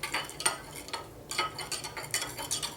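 A spoon stirs a mixture of molasses, cider vinegar, butter and chocolate for bread, with soft irregular scrapes and clinks against the pot, close and fairly quiet, with no talking.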